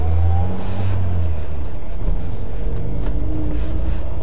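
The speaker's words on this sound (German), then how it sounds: "Wir fahren jetzt hier auf den Parkplatz vom Brechtsee." A car rolls into the parking lot at Brechtsee lake, its engine a steady, loud low rumble heard from inside the vehicle, mixed with wind buffeting and no talk.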